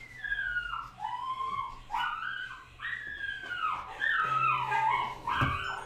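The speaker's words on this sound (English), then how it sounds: "My dogs are going wild again." Dogs in the video game Persona 5 whine and whimper in a string of high, sliding yelps that overlap and grow busier toward the end.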